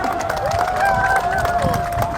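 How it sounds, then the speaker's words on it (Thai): Crowd applause and cheering at an outdoor Thai bamboo rocket (ta lai) festival in Kut Wa, Kalasin, a steady wash of clapping and babble with a sustained whistling tone running through it. "ถ้าสุดยอดขอเสียงปรบมือให้สิครับพี่อีกสักครั้งครับ"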